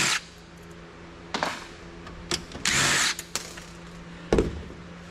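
A power screwdriver backs out the screws holding the power supply in a Dell Optiplex 760 desktop computer, with several short whirring bursts, one longer, separated by quiet pauses.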